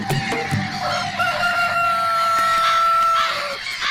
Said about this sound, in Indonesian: Dan sang ayam, ya,